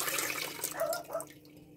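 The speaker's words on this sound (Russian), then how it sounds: "ну а теперь сливаем в кастрюлю и будем готовить рассол на 3 литра воды" Brine poured from a jar into a pot while pickling tomatoes, a short quiet splashing pour with liquid gurgling for about a second before it tapers off.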